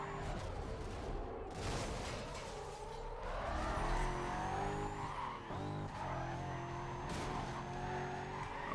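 Racing car in Need for Speed: Carbon braking hard with a long tire skid, engine roaring and shifting pitch under the screech, with sharp bursts of game sound throughout.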